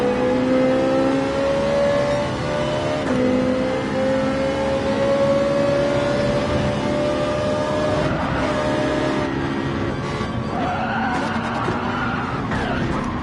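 Ferrari race car in Gran Turismo 7 at full throttle, a steady high engine note that climbs through the gears, with tire squeal and skidding as the car corners, loud and continuous.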